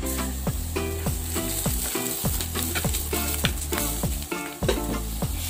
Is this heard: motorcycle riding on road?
no